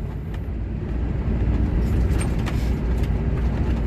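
Truck driving on the road, a steady low rumble of engine and road noise throughout, close and continuous with no talk.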